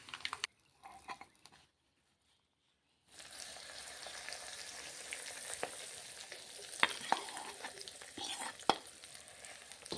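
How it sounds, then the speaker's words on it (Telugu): A hot tempering of spices in oil is poured into coconut, tomato and coriander chutney. After a few seconds of near silence, a steady, close sizzle and crackle runs to the end, with occasional sharp pops. "పోపు అయిపోయింది, వేసేసుకుందాం."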